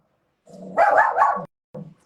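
A dog barks at two small dogs passing by. It gives a loud, close, drawn-out bark of about a second, then one shorter yelp after a brief pause.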